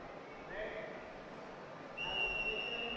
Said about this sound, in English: And we have the referee's whistle.